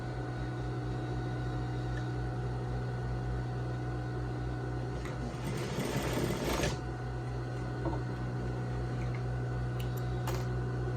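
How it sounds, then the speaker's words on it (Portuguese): A sewing machine stitches a zippered lab coat, its motor producing a steady, faint mechanical hum with a short burst of louder whirring stitching partway through. "Vou passar uma costura aqui bem no cantinho, deixando bem posicionada, bem retinho"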